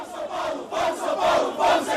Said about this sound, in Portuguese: A torcida de São Paulo comemora o Vamos Ser Campeão